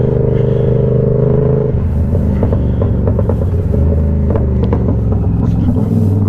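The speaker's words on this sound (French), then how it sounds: "Un bruit de moto GP quoi, hein," A loud RSV4 sport motorcycle engine rumbles at a steady idle, then breaks into a rough, clattering exhaust rev that keeps pulsing.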